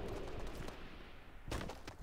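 Gunfire in the video game Fortnite Mobile, heard as a few sharp, somewhat muffled bursts early on and a louder cluster of shots a bit past midway, with game ambience in between.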